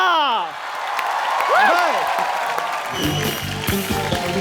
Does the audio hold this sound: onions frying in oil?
no